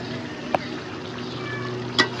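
Chicken is sautéed in oil for a murgi bhuna, giving a constant low sizzle with two sharp clinks of a spoon against the pan and no speech.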